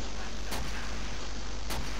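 Artillery in Call of Duty: World at War sounds as two sharp distant thuds about a second apart, set against a steady, dense roar of battlefield noise.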